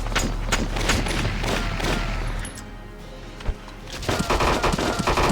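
Gunfire in the Valkyria Chronicles video game comes as dense, rapid bursts of shots. The fire thins briefly midway, then picks up again with sharp cracks.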